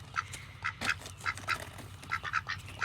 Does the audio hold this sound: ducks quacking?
yes